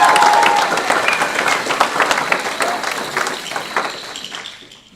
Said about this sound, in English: Please give Mrs. Shaver another round of applause.